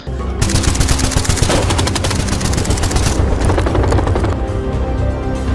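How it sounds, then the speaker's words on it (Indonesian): Rapid bursts of gunfire ring out in a minimarket robbery scene in a film, loud and sustained machine-gun-style volleys with overlapping shots and no speech. "salah satu penjaga toko itu pun harus tewas di tempat setelah ditembak dengan brutal oleh para perampok"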